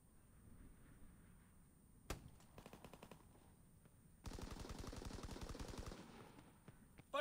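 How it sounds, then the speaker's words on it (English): A fighter plane strafing in a multiplayer video game: rapid bursts of machine-gun fire, a short burst then a longer sustained rattle, loud and close, with a sharp single crack between them. "Fighter pilot inbound, strafing the target."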